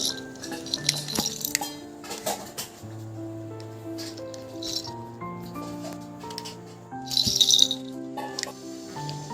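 A baby handles and mouths plastic toys bought at a fair, making close, intermittent rattles and light clinks with quiet pauses between bursts, over a faint tonal background.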